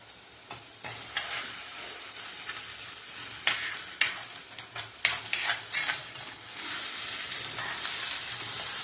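Onions frying in a pan for a spicy village-style curry, with a steady sizzle under bursts of a spoon scraping and clinking as they are stirred, close and moderately loud, with no talking.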